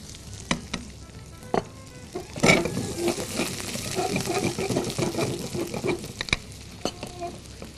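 Crushed ginger and garlic hiss and sizzle in a hot stir-fry pan for vegetable noodles, a steady close crackle with scattered clinks and stirring, and no voice over it.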